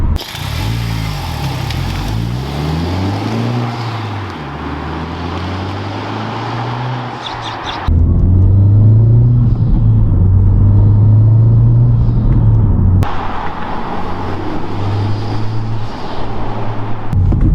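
A 2021 Honda Civic Type R with a PRL intake runs loud and close, its engine climbing and falling through revs, then holding a strong steady drone with turbo boost and heavy rumble.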